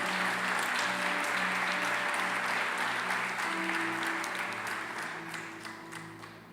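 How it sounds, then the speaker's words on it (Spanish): A church congregation claps together during a Spanish-language service, a full, steady round of applause over a low sustained organ-like tone that gradually fades toward the end. "Dale un aplauso al Señor para glorificar su nombre."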